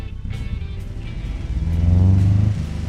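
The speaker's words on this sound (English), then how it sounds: "now let's get back to the engine. Let's fire it up and hear the beautiful sound of it" A boxer four-cylinder engine in the Automation game starts and settles into a steady, low, throbbing idle, loud and close, with a slight rise in revs toward the end.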